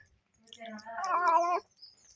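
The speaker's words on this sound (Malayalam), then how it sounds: "ഹായ് പറഞ്ഞു പൂച്ച." A house cat at home gives a single drawn-out meow, close and clear, lasting about a second and surrounded by quiet.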